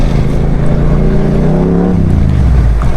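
An older motorcycle's exhaust revs loudly and steadily close by, its engine note climbing and then dropping over a few seconds, with a deep rumble running throughout.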